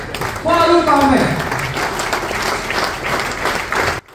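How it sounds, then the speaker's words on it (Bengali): Audience applause greets a former cricket captain being called onto the stage at an award ceremony; steady clapping fills the room at moderate loudness, with a speaking voice over the start. "তো তাকে আমরা মঞ্চে ডেকে নিতে চাই জোর করতালির মাধ্যমে"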